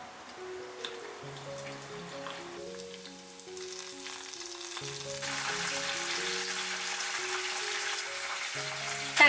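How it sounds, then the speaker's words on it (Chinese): Spring rolls deep-fry in hot oil, a steady crackling sizzle that grows louder midway while a soft melodic background tune plays. "油温5、6成热的时候放进来炸"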